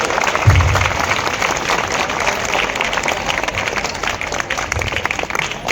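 An audience at a degree college annual sports function in Tilhar applauds to welcome the district magistrate, a steady, fairly loud crowd clapping throughout with a few low thumps underneath and no speech.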